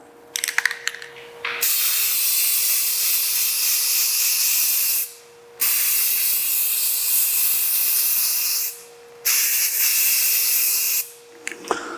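Rust-Oleum automotive spray paint applied to a car wheel: three long, loud, steady hissing bursts from the can, separated by short pauses, with faint clicks of handling at the start.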